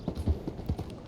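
Horse hooves clip-clop at a steady walking rhythm in Red Dead Redemption 2, about five soft, close thuds over a second of low game ambience.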